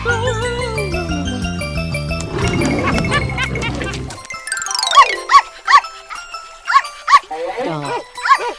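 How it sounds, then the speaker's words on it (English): Animated cartoon dog sounds among a string of animal transformations: short, loud, bright yelps and barks repeating in quick bursts after a stretch of busy music. "Dog."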